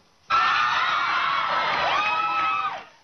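A concert audience in Texas bursts into loud cheering, whoops and screams, a sudden dense roar of voices that holds for a few seconds and then cuts off.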